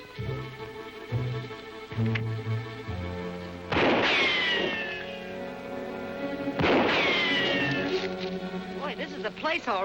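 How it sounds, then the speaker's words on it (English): Gunfire in a 1941 adventure serial: two loud, sharp shots with whining ricochets, each followed by a short ringing tail. Voices and other tonal sounds come before the shots. "They shoot first and identify you afterwards. What's Blackie shooting at?"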